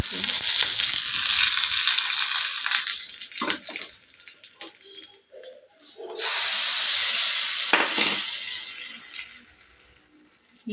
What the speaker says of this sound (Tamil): எண்ணெய் ஊற்றியாச்சு இப்போ கடுகு போட்டுக்கலாம் கருவேப்பிலை